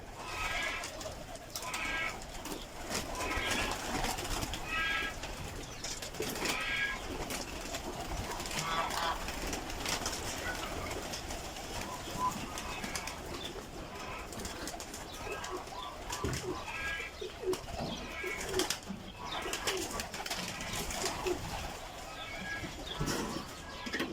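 Several pigeons at a pigeon farm coo repeatedly in soft, throaty calls, with occasional wing flaps, over a steady background hum.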